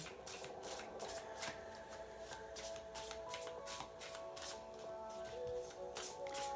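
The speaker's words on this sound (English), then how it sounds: "A few too many cards there, so we'll just shuffle those again." Cards shuffle continuously in quick riffling bursts at close range, steady and fairly soft, with no voices.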